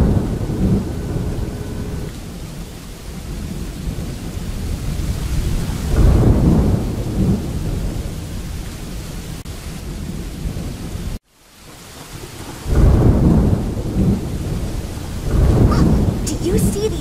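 A kids' video game thunderstorm: rain hisses steadily while deep rolling thunder swells twice, broken by a brief cut to near silence midway.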